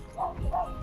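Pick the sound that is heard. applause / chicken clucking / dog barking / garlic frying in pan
dog barking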